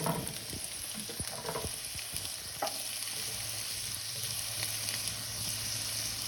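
Mushrooms fry in a hot pan with a constant sizzle while a utensil stirs and scrapes through them, a few knocks and clatters early on, close and steady with no voices.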